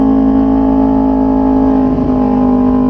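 Kawasaki Ninja 250 fi motorcycle fitted with a Prospeed Python exhaust and a large header, giving a loud, steady, droning engine tone with strong harmonics that holds close-up throughout, dipping only slightly near the end.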